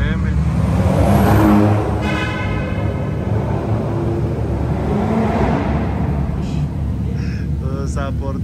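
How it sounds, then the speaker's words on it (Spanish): A flatbed tow truck carrying a car arrives at a car exhibition, its steady engine rumble loud and close, with people talking over it. "Allí viene otra cama baja con otro carro."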